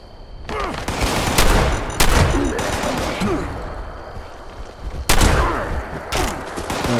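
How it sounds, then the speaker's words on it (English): Shotgun fire and other gunfire during combat in the Fallout 76 video game, with several loud, sharp blasts spread across a dense, chaotic battle din. "Let me pull out my shotgun, please."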